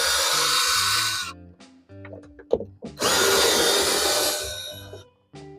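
Power drill running a 10mm socket on bolts in a Ford Bronco two-door interior: two loud bursts of whirring, each over a second long, separated by a short pause with small clicks and handling noises.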